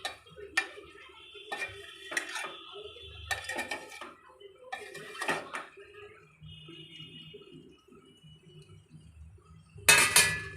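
Brinjal pieces being mixed with salt and turmeric in a metal pan, intermittent clinks and scrapes of a spoon against the pan with quiet gaps between, ending in a louder clatter.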